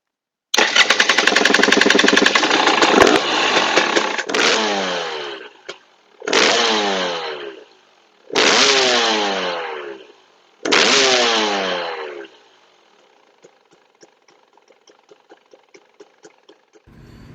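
A two-stroke motorcycle engine with a TPI fuel injection setup fires up loud and close, then revs in four sharp bursts, each falling away, before settling to a faint, uneven idle.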